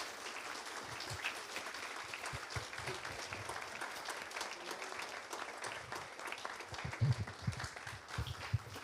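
An audience applauds after a panel talk on anime and politics, a steady wash of clapping heard from a distance throughout, with a few sharper nearby claps toward the end.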